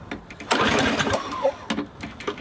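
A lawn mower engine running in a comedy sketch, a rough sputtering motor that surges and chugs unevenly with irregular bursts, fairly close and moderately loud.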